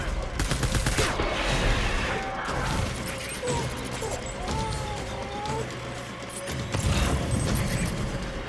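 Chaotic gunfire in the video game Death Stranding, sustained bursts and crashes layered with mechanical clatter and dense noise, loud and continuous throughout with a few voices mixed in.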